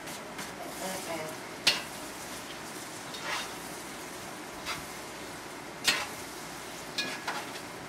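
Jambalaya ingredients tipped into a hot pot and stirred, giving a soft, steady sizzle broken by a few sharp utensil knocks and scrapes against the pot.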